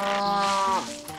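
A cartoonish cow moos in the milking mini-game of the party video game 1-2 Switch: one loud, close, sustained tonal moo that bends downward at the end.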